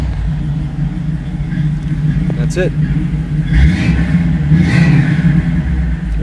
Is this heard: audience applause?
no